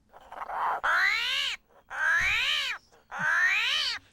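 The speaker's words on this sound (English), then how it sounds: "That's an armadillo." An armadillo call played back from a handheld sound device: three loud, drawn-out, strained honking cries, each about three-quarters of a second long, separated by short gaps and heard alone.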